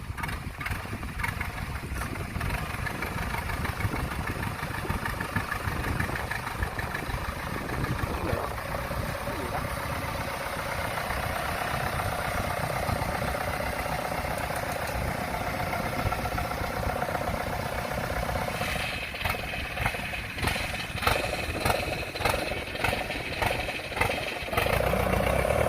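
A Kubota DC70 combine harvester labours in very sticky, muddy ground, its engine giving a continuous rough drone for the whole stretch with some rattling pulses near the end.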